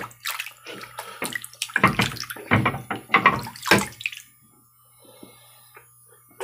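A whetstone is rinsed under running tap water, with several bursts of splashing and gushing over about four seconds before the flow stops and the surroundings go quiet apart from a few faint drips.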